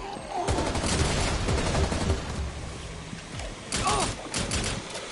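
Rapid bursts of gunfire in the video game Rainbow Six Extraction, cracking loudly in clusters through the clip while players talk over the shots.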